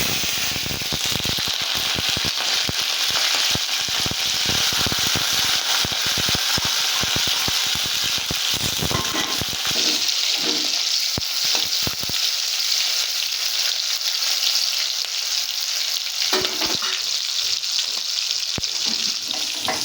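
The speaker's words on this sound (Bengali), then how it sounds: "তেলটা গরম হয়ে গেছে, এবার আমি চিংড়ি মাছগুলো দিয়ে দিচ্ছি।" Shrimp fried in hot oil seasoned with cumin seeds, a loud, close, continuous sizzle with stirring and scraping strokes through the first half, then settling into a steadier hiss.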